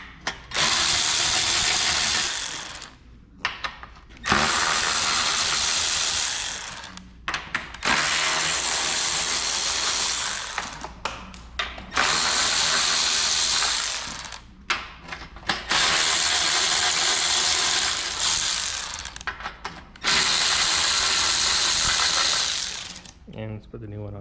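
Steady, loud ratchet clicking close by as a wrench spins out 10 mm bolts from an old car radiator fan, coming in long runs of several seconds separated by brief pauses.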